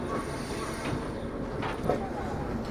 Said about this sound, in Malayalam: ഇതാണ് ഝാൻസി റെയിൽവേ സ്റ്റേഷൻ.